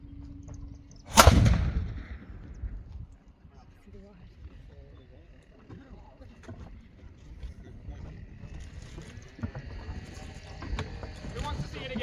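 A historic 4-pounder cannon at Fort Ticonderoga, New York, fires with a single sharp, loud boom that rolls away into a long fading echo, followed by faint outdoor crowd murmur and movement.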